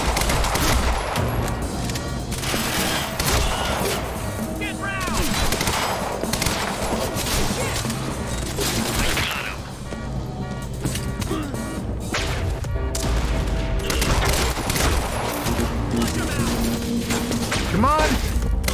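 Sniper gunfire in the video game Quantum Break: repeated loud cracks and bursts of shots over a dense, busy game soundscape, with a voice talking and reacting over the action.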